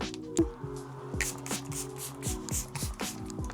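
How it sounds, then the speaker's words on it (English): Several short hissing spray bursts from a L'Oreal 3-second setting mist bottle sprayed onto a face, close by, over steady background music with a low, pitched melody. "Then for the second spray, you already know L'Oreal 3-second setting mist."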